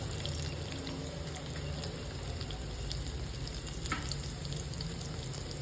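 Cloves and ginger fry in hot oil on a lowered gas flame for a Rajasthani kadhi tadka, a steady close sizzle with faint crackles throughout and no talking.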